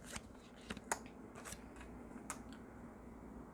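Lenormand fortune-telling cards are shuffled by hand in a quiet room, several crisp, quick riffling snaps at an uneven rhythm, soft and close, with no talking.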